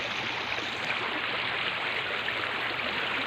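River water flows in a constant broadband rush, close and steady throughout, with no voices over it.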